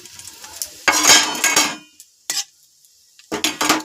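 Whole garam masala spices hit hot oil in a pan for a cashew, cabbage and paneer dish cooked without onion or garlic. Short loud bursts of sizzle and spattering come with metal utensil clinks, separated by quiet gaps.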